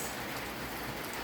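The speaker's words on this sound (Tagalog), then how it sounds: "Ulan, ang lakas." Heavy rain pours steadily in the Philippines, a dense, unbroken hiss of water on the roof and surfaces that holds constant and close throughout.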